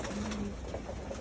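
Domestic pigeons cooing at feeding time, a low soft coo repeating a few times over steady background noise, fairly close with no talk.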